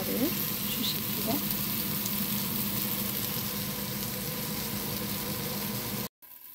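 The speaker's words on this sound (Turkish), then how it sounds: "Patlıcanlar da kızarıyor." Steady, close-up sizzling of eggplant frying in a pan, with a faint clink of a utensil near the start.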